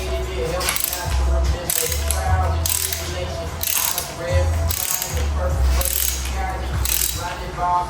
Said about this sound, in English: So now I just torque down.